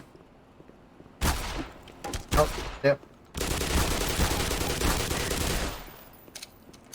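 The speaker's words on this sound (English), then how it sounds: "Gunshots from computer." Gunfire in Black Mesa, several short bursts of shots followed by a longer sustained volley, loud and close, with a brief spoken exclamation.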